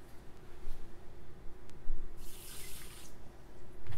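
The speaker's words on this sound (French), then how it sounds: "On va rajouter également un petit verre d'eau." A small glass of water is poured over bulgur in a bowl for Lebanese tabbouleh, a brief splashing burst in the middle over faint kitchen background noise, close and moderately loud.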